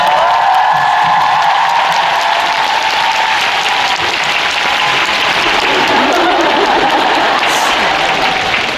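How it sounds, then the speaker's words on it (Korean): A concert audience applauds loudly and steadily for several seconds, a dense wash of clapping with a few cheers mixed in, close and continuous throughout. "여러분 많은 박수와 감사합니다"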